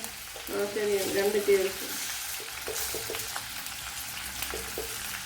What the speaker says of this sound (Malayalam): ഇപ്പോഴൊരു 2 ടേബിൾ സ്പൂൺ കടുക് ഇട്ട് കൊടുത്തിട്ടുണ്ട്.